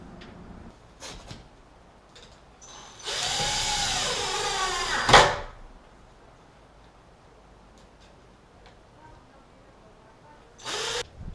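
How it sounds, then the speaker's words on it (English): A power drill drives and countersinks a screw into a door frame during a back door installation, one close, loud whirring burst with a sharp bite at the end, a brief later spin, and faint clicks and knocks between. "I'll put a screw through it, I'll countersink it, and then I'll back it out"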